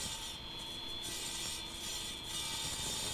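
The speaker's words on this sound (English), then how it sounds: "There's the saw at work." A water-fed rock saw cuts through stone, giving a faint continuous grinding hiss with a high whine and slight rhythmic surges, heard alone without talk.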